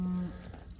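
A cow on a wet cattle farm lets out a single low, loud moo that breaks off quickly, followed by quiet outdoor background.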